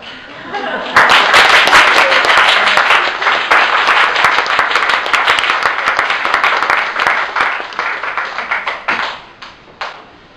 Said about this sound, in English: Give Chris Henry and everybody involved with the skit a round of applause